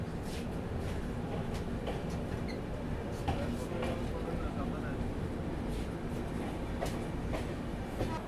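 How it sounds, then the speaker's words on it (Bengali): Shatabdi Express train leaving Bolpur Shantiniketan station, heard from onboard as a steady low rumble with rhythmic clicks of the wheels over rail joints, running continuously. "আর এখান থেকে ছেড়ে দিল ট্রেন"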